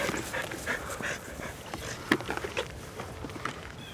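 Dogs play close by, panting and scuffling with quick footsteps and a few sharp thumps, moderately quiet with no clear speech.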